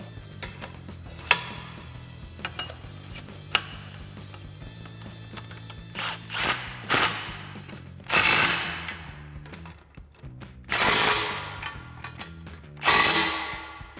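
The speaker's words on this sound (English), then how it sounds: "So we'll put these in and tighten them down with our 15mm socket." A ratchet with a 15mm socket tightens exhaust clamps on a 2018-2023 Mustang GT cat-back exhaust install, giving bursts of rapid clicking that come and go near the mic, with no talking.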